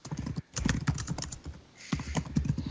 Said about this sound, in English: Holy crap, who's typing?